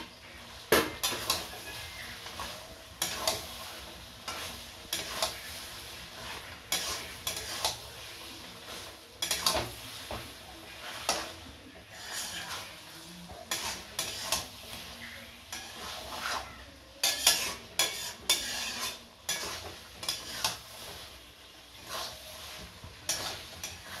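Chicken curry with fried potatoes is stirred in a pan, with repeated scraping and clanking of a metal spoon against the pan over a low sizzle. The strokes come in irregular bursts, close and fairly loud, with no voices.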